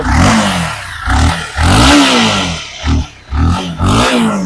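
A used Suzuki Intruder or Honda CBR 250 motorcycle engine revs up and down in repeated loud bursts with short dips between them, close by and alone.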